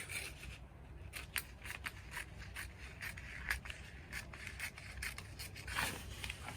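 Scissors snip through fabric while trimming a kaftan pattern piece, a quiet run of short, crisp cuts repeating at an irregular pace with no voices.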